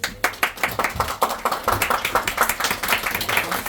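A small audience at a stage play's curtain call claps in crisp, distinct, overlapping hand claps, fairly close and steady throughout, calling the actors back out.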